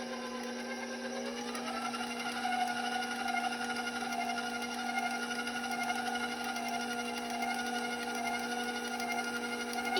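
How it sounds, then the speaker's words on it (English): A stand mixer whirs steadily as it beats Italian cream pie batter with eggs and vanilla, a continuous, even motor hum with no talking. "I will mix until it looks all combined."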